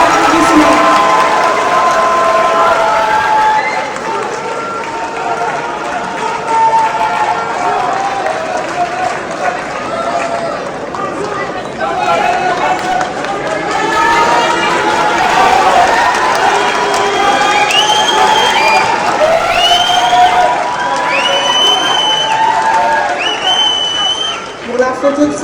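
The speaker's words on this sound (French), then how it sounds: "Sur les applaudissements, s'il vous plaît." Applause and cheering rise from a large crowd at the ECOFEST Dakar 2025 opening ceremony in Dakar, a dense, continuous wash of claps and shouts lasting about 25 seconds, loud throughout with voices calling over it.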